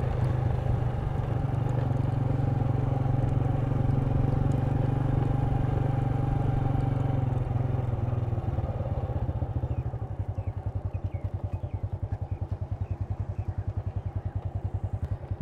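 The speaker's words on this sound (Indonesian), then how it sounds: "kalian sudah dengarkan tadi ya di atas motor" A motorcycle being ridden outdoors, its engine droning loud and close in a steady, continuous rumble that changes partway through to a rapid, pulsing idle-like throb.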